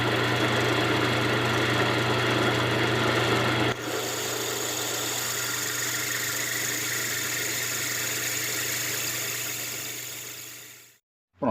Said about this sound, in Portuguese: Agora a broca de 5 mm